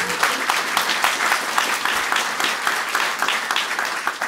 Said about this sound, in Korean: 다시 한번 큰 박수로 격려해 주시면 대단히 고맙겠습니다